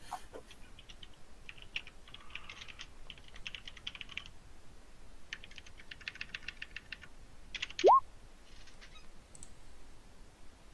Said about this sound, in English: typing it down now